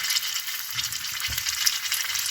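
Chilli bajji frying in hot oil, a steady close hiss and crackle of sizzling batter with a soft low bump partway through.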